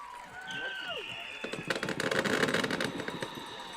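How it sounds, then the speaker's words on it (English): Fireworks going off at a 2025 high school football game between Shamokin Area and Mount Carmel in Coal Township, with a quiet start, then a dense run of popping, crackling bursts over a noisy crowd. "I wish we could get a visual on the fireworks right now"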